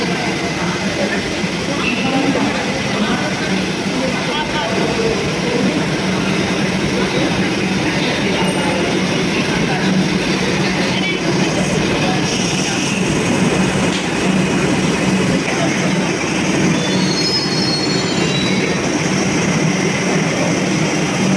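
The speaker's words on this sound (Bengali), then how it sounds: "ট্রেনটা এই সময় ওপর দিয়ে যায়" A Kolkata Metro train runs on an elevated track, giving a loud, continuous rumble of rail and wheel noise with faint squeals and clatter throughout, no talk heard.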